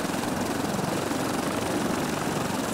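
An aircraft engine in flight in the video game Stranded Deep, with the plane running on potato-based fuel; a steady, loud, droning whir with a fast propeller beat, continuous and with no talk.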